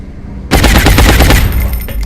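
Rapid automatic gunfire from soldiers in the turn-based strategy game XCOM: Enemy Within, a loud burst of shots breaking out suddenly after a quiet moment and rattling on densely for over a second before easing.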